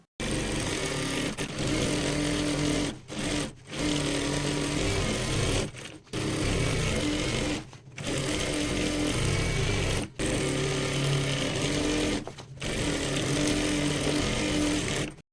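Sewing machine running straight seams along a farshi salwar, loud continuous motor whir broken by several short pauses between stitching runs, with no voices.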